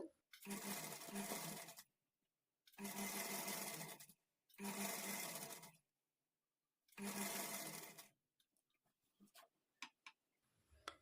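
A sewing machine stitches a hemming strip on a lined blouse in four loud, even bursts of rapid whirring with short pauses between, followed by faint ticking and handling sounds.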